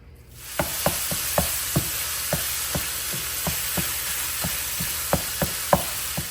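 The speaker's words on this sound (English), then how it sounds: "Gonna brown up a pound of ground beef or ground turkey." A pound of ground beef browning in a pan, a steady bright sizzle with scattered crisp pops and crackles, close and loud, no talk.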